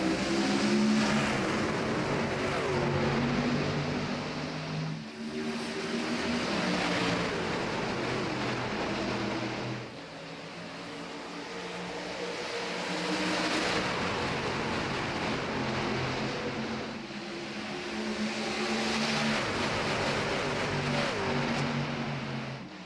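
Race truck engines roar together at the green flag at Nashville Superspeedway in a sim racing game, a loud, sustained multi-engine drone with several surges as the pack accelerates.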